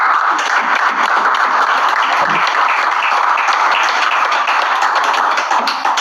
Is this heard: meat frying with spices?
no